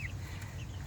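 Hens kept in a small urban backyard flock, low soft clucking murmuring steadily and close by with no talk.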